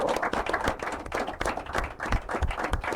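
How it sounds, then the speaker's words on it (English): An audience at an inter-collegiate quiz and debate competition applauds, with dense, steady clapping that carries on through the whole stretch. The clapping is fairly loud and close, and no voices are heard over it. "a very warm round of applause to each and every one of them"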